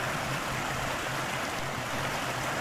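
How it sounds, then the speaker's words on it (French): Water of a woodland stream in the Ardennes cascading over and around stones, a steady close rushing and gurgling that runs evenly through the whole stretch without other sounds. "Regarde quand ça cascade comme ça,"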